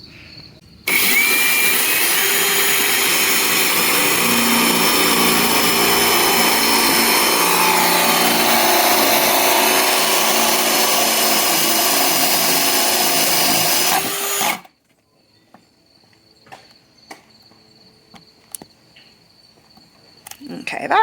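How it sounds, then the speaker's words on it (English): A power drill and then a jigsaw cutting out a wooden drawer panel to fit an outlet, a loud, continuous high-pitched whine running for about fourteen seconds before stopping abruptly, followed by quiet handling noises. "I'm going to just drill a hole or two here so that I have something to use when I use my jigsaw to cut the rest of this out here"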